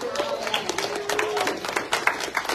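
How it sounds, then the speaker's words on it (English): A church congregation gives a hand clap of praise, a dense burst of clapping that continues under a sustained voice. "Give him a hand clap of praise"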